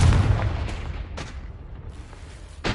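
A Confringo fire spell in Hogwarts Legacy sets off a heavy booming blast that rumbles and decays, followed by a couple of sharper cracks and a final burst near the end.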